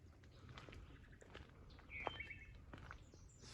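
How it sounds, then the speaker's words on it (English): Near a forest trail, a single sharp bird chirp rings out faintly, with a few fainter calls, over low outdoor rumble and light footstep-like patter. "Some nice bird sounds."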